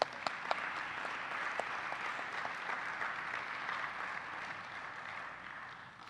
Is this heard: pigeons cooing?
no